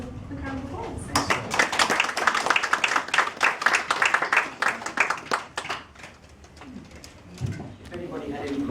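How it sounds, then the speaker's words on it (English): An audience round of applause at a health talk, rising suddenly into many hands clapping close by and fading after several seconds, with a few voices talking before and after. "I'd just like to give you another quick round of applause."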